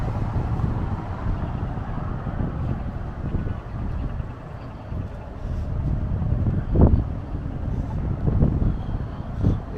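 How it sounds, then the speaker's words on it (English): Gusty wind blows along the Las Vegas Strip near the Encore and Wynn resorts, buffeting the microphone with a steady low roar while walking. Occasional louder gusts and faint street noise come through, with no talk. "You can see how windy it is right now."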